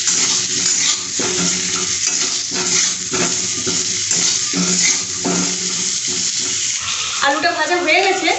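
Potatoes fry in a pan as salt and turmeric go in, a steady close sizzle broken by repeated stirring and scraping strokes, with a sharper crackle near the end.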